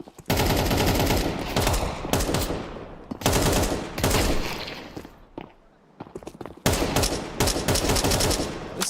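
Rapid automatic gunfire from a Counter-Strike match on the Overpass map, loud bursts of sustained rifle fire broken by brief pauses, with footsteps mixed in.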